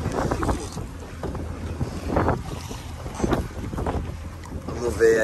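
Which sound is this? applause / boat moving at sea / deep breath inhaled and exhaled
boat moving at sea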